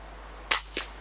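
An air rifle fired at a rabbit about 40 yards away: a single sharp, close crack followed a quarter second later by a fainter impact snap, against a quiet outdoor background.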